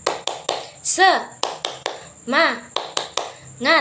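A classroom group does a rhythmic tepuk semangat clapping chant, with sharp hand claps in a steady pattern broken by short chanted vocal calls, loud and close.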